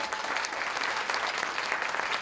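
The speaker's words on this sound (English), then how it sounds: "let's have another round of applause" An audience applauding at a community arts reading event, a steady, dense wash of clapping hands heard throughout, fairly near and even in level.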